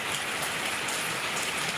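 Steady rainfall patters down in a constant broadband hiss for the whole stretch, with no voices over it.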